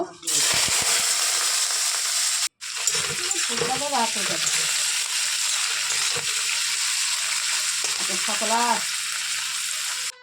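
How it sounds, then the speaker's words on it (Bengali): Prawns hit hot chilli-fried oil in a heated kadai, producing a loud, continuous hiss and crackle that cuts out briefly, then resumes at full strength with light stirring. "লঙ্কা ভাজা তেলের মধ্যে চিংড়ি মাছগুলো দিয়ে দেব"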